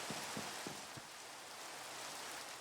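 Steady rain from Minecraft weather, a continuous hiss filling the clip alone, with a few soft low thumps early on.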